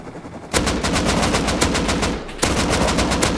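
Gunfire in the survival video game Rust comes as rapid, loud automatic bursts of evenly spaced shots, a longer string, a brief pause, then another burst close by.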